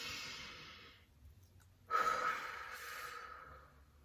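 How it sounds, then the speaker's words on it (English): Slow, deep cleansing breaths during a relaxation exercise, a long airy exhale fading out, a pause, then a sharp inhale followed by a sustained breath out, close and soft. "Taking a deep cleansing breath in and closing my eyes"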